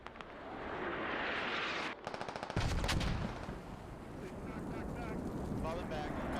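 Mortar barrage in the military shooter game Squad, a dense roar of explosions and a rapid burst of gunfire-like cracks in the middle, loud and continuous, with voices talking over the din.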